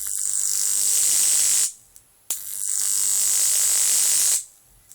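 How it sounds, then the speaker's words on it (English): A constant electric arc jumps between the pins of a high voltage transformer, giving a loud, steady buzzing hum in two long bursts separated by a short break. No one speaks. "far enough for it to leap over to give a constant arc between the pins"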